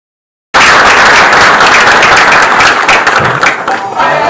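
Applause from an audience at the Kenya Space Agency Strategic Plan 2023-2027 launch event, breaking out suddenly after a short silence and continuing as steady, dense clapping to the end.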